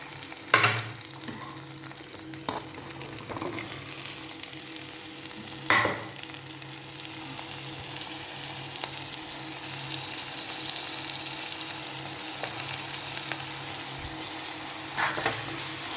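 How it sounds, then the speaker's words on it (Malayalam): Ivy gourd and curry leaves frying in oil in a pan give a steady close sizzle, broken by occasional sharp knocks and scrapes of a stirring spoon against the pan, with no voices. "കോവയ്ക്ക എണ്ണയ്ക്കകത്ത് നല്ലപോലെ എണ്ണ പെരളാൻ പാകത്തിന് നമുക്ക് ഒരു സെക്കൻഡ് ഒന്ന് ഇളക്കി കൊടുക്കാം"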